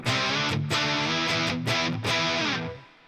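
Distorted electric guitar processed through STLAMPHUB amp-modelling software, loud sustained chords changed in a steady rhythm of several strums, played alone with no talk and fading out at the end.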